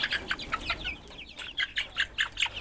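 Young roosters from a backyard flock cluck and chirp in quick, uneven bursts, close and moderately loud, with no voices.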